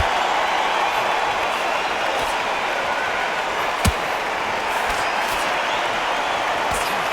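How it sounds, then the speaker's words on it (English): Arena crowd noise from the boxing game Undisputed: a steady, dense roar of spectators fills the whole stretch, with a sharp thud or slam near the middle and faint impacts later. "Walking into an arena with such noise, people chanting your name."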